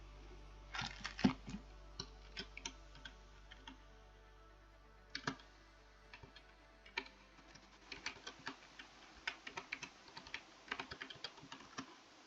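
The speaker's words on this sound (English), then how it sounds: "what keeps hitting the spacebar" A computer keyboard is pressed again and again during Minecraft play. The soft, faint clicks come singly and in quick clusters over a quiet background hum, with no speech.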